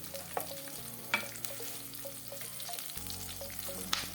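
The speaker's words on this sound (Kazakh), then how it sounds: "Ең алдымен қызып тұрған майымызға пиязымызды салып жақсылап қуырып аламыз." Onions frying in hot oil in a pan, a steady close sizzle with scattered crackles and stirring scrapes, no talk.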